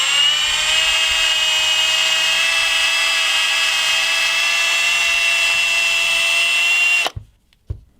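Power drill spinning against the screen protector of an iPhone 12 Pro Max or 12 Mini, a loud, steady high-pitched whine held for about seven seconds before cutting off abruptly, followed by a few faint knocks.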